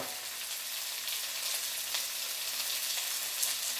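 Sliced onions sauté with salt in a pan for tomato rice, giving a steady, close, even sizzle and hiss throughout with no one speaking.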